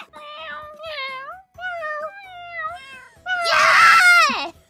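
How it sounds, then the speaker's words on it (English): A cat in the Minecraft video game gives a series of distinct meows, four shorter calls followed by a louder, drawn-out wail, close and clear. "They're attacking the cat, I think."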